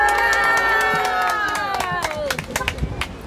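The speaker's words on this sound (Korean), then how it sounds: "박수로 환영하겠습니다" A crowd at an outdoor press conference applauds and cheers to welcome a speaker, loud and continuous, with voices and a sustained tone that fades as scattered claps trail off at the end.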